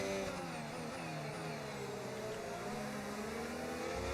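A racing car engine in the F1 25 video game at the Austrian GP revs hard through a series of upshifts, its high, whining tone climbing and dropping repeatedly in a continuous, loud drone.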